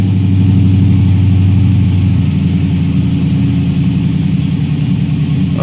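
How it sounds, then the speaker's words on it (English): A TVR Chimaera running on LPG idles steadily on a cold start, a loud, close, continuous low engine drone with no talk. "we're idling now around about 1800 RPM, a little bit high, so we could just bring that down"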